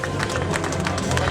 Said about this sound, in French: Applaudissements pour la fermeture de la fontaine.